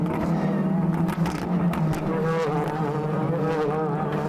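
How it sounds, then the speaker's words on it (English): Loud, continuous engine roar with shifting pitch as DTM touring race cars sweep past at the Nürburgring, several overlapping in a steady wash of noise. "as they roar through, the sound of these DTMs fantastic"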